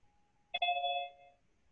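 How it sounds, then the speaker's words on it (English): One short electronic chime, a ding-dong doorbell-like tone that rings briefly and fades, heard alone and fairly faint during an online meeting. "I heard a chime, but that's all."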